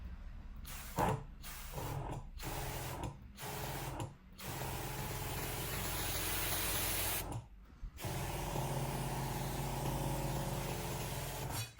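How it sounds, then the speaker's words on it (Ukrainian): An electric garden sprayer's motor pumps in a garage, running in bursts broken by short gaps, then a long steady stretch of buzzing spray and motor hum before another brief stop and restart. "ви бачите, що е, мотор качає лише тоді, коли я натискаю на, этот, на ручку"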